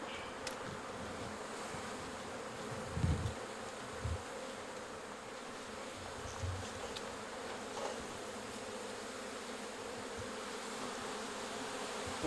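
Honey bees buzz around a hive outdoors, a faint, steady hum of many insects with occasional closer fly-bys and a few soft bumps.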